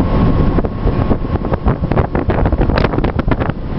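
Strong wind buffets the microphone in loud, continuous gusts with heavy low rumbling, steady throughout.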